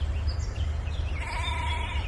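Sheep bleat faintly over a steady low rumble, with a wavering, drawn-out call rising in the second half.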